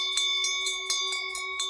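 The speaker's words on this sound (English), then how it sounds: "A bell rings." A bell rings in bright, repeated strokes, about seven evenly spaced chimes with a sustained ringing tone between them, clear and moderately near with nothing else heard.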